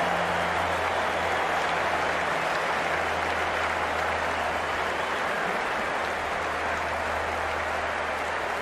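A stadium crowd at an India vs Sri Lanka one-day cricket international cheers and applauds after a boundary, a dense, steady roar of clapping and voices that holds evenly throughout without pause.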